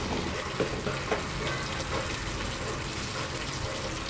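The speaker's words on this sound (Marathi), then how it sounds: "छानपैकी उकळ आलेले आहे कोळंबीच्या साराला" A clay pot of prawn curry bubbles and simmers steadily up close, with soft popping bursts and a continuous sizzling hiss, no voices.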